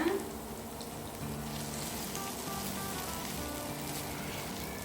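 Chettinad vegetable masala fries and gets stirred in a pan, a soft continuous sizzle with faint scraping, close and fairly quiet.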